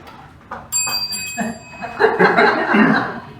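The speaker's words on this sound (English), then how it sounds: "After 50 seconds, you will hear a bell." A bright timer bell rings out with sustained high tones at a business networking meeting, followed by chatter and light laughter from several people nearby.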